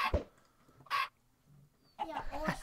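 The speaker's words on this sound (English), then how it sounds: "Hey, chickens." Chickens in the Minecraft modpack FTB Infinity Evolved Skyblock give short, clipped clucks at close range, a few separate calls with quiet gaps between them.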